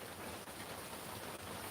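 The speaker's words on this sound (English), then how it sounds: "So it just started raining, y'all." Steady rain has just begun falling in Mississippi, a dense, even hiss of drops on surfaces, continuous and fairly close throughout with no voices.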